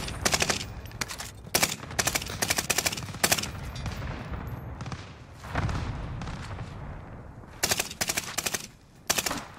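Rapid bursts of automatic gunfire in a first-person shooter video game, loud and close, arriving in repeated rattling volleys separated by brief gaps of lower background noise.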